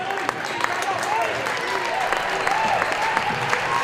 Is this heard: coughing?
no